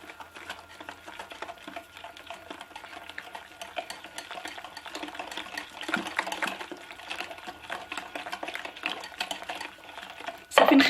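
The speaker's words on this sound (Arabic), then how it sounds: "نحرك هاد المكونات" Ingredients for an avocado-and-orange harsha mixture being stirred in a bowl: a steady, close scraping and swishing that runs without pause, with a sharp clatter right at the end. No one speaks.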